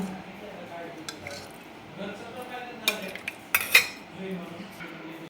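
Cooked mutton being ladled out of a pressure cooker: metal ladle clinks and scrapes against the pot with soft, wet squishes, a few sharp clanks near the end, and a voice speaking.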